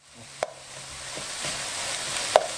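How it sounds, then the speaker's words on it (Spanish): Chopped onion and garlic frying together in a pan for garlic and onion rice, a soft continuous sizzle with a couple of sharp utensil clicks as the mix is stirred. "Ya que sofreímos aquí la cebolla, lo que voy a hacer ahora, le voy a añadir el ajo."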